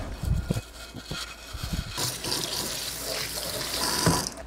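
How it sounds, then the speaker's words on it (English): Water runs from a tap while an old baseball bat grip is rinsed with dish soap, a steady splashing flow with a few handling knocks early on. "I decided to give it a quick rinse with some dish soap just to wash any residue"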